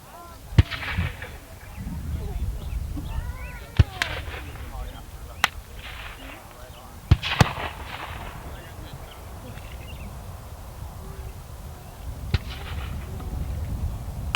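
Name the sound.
infantry rifle fire at a Civil War battle reenactment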